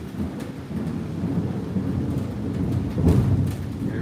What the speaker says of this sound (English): there's some intense thunder here